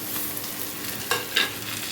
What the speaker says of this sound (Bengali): পেঁয়াজ রসুন লঙ্কা সমস্তটাই লাল করে ভাজা হয়ে গেছে এর মধ্যে আমি দিয়ে দেবো কেটে রাখা টমেটোটা